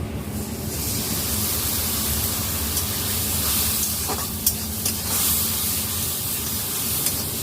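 A splash of water hits Kashmiri red chili powder and salt masala in a hot pan for a tilapia oil jhal, setting off a loud, continuous hiss and sizzle that runs unbroken with faint stirring scrapes and no talking.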